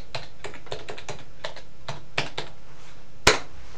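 Someone types a password on a computer keyboard: a quick run of light, irregular key clicks, ending in one sharper, louder keystroke like a return key, with no talk.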